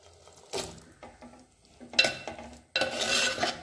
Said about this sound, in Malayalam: നന്നായി ഇളക്കി മസാലയെല്ലാം ഇതിലേക്ക് യോജിപ്പിച്ച് കൊടുക്കണം